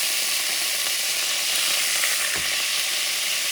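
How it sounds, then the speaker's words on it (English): Hot oil sizzling steadily in a pot over medium heat, a dense, even hiss with no voices, before the trinity vegetables go in for a bayou alligator stew. "I got the heat on medium, but the oil is hot."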